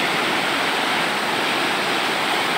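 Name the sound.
river water flowing at Majayjay, Laguna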